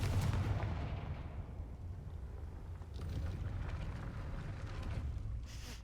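A Confringo blasting spell is cast at a gate in Hogwarts Legacy, giving a loud, booming blast that trails off into a long, rumbling roar for several seconds, with no voices over it.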